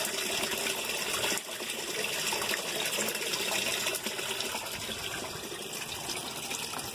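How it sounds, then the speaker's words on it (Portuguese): Filtered water pours back into a tilapia tank kept in a water box, a constant gushing splash with a faint trickling edge, close and unbroken throughout, with no one speaking. "O retorno da água tá ali, ó. Olha lá, gente, a água retorna."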